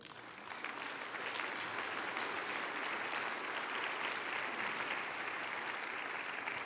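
A church congregation claps together during a Sunday sermon, a continuous wash of many hands that swells in after a brief start and stays even and full, heard from a distance.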